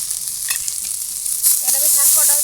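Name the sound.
lentil dumplings (bori) frying with crabs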